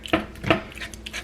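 A utensil clinks and scrapes in a pan while stirring Mexican lasagna filling with the heat off, two quick, sharp metallic knocks followed by lighter taps, close up.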